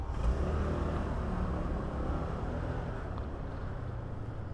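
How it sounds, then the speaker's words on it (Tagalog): A motorcycle engine runs steadily with a loud, continuous rumble and whir as it rides up onto a RoRo ferry bound for Mindoro, with no talk. "pag isasampa yung motor sa Roro, papuntang Mindoro"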